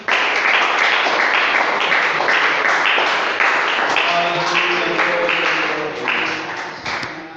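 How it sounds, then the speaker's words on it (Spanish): A church congregation applauds during a sermon, dense steady clapping from many hands that holds loud for several seconds before gradually thinning, with faint voices underneath. "Aplauda el nombre de Jesús."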